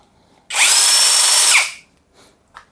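A MASARU cordless drill driver whirs loudly for about a second, spinning up and winding down, followed by a couple of faint knocks.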